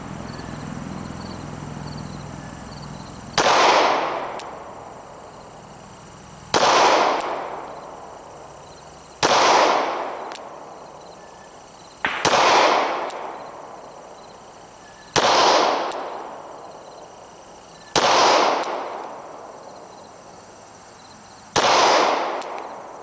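Eight single shots from a Glock 23 Gen 4 .40 S&W pistol at a 7-yard range, each a sharp loud crack with a decaying tail, spaced evenly about three seconds apart, no talking.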